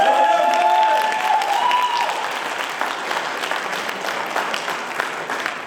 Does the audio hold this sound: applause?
yes